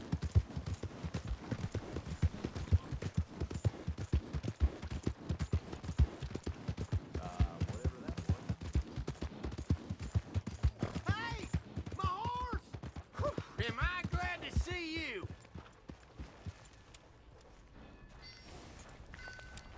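Horse hooves clip-clop at a brisk, steady pace while riding through a Red Dead Redemption 2 town, close and rhythmic, thinning out toward the end as a voice speaks briefly over them.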